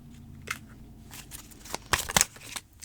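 Tarot cards being shuffled and smushed together by hand: a series of quick papery riffles and slaps, several sharp bursts clustered near the end, close and fairly quiet with no talking.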